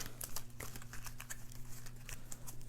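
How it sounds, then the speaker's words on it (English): A deck of Forbidden Island board game cards, holding treasure and Waters Rise cards, is shuffled by hand, giving a quiet, close run of soft papery riffles and flicks with no voices. "Shuffle it up"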